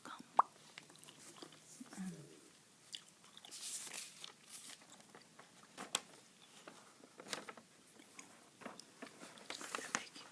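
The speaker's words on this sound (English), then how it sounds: "There's a gum I'm chewing tonight, by the way. Super bubble gum." Super Bubble bubble gum being chewed close to the microphone, soft wet smacks and clicks at an irregular rhythm, quiet and intimate with faint breathy sounds in between.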